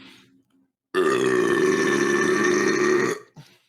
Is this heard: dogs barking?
no